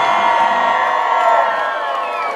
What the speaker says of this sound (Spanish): Un aplauso para nuestra reina